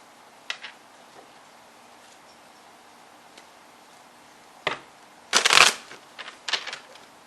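Tarot Illuminati cards shuffled by hand, close and fairly quiet: a few soft isolated flicks early on, then a dense riffling burst near the end followed by several short card snaps, with no talking.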